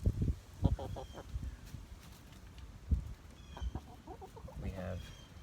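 A Rhode Island Red chicken clucks in short bursts, soft and close, with a few low scuffs and faint background noise in a quiet yard.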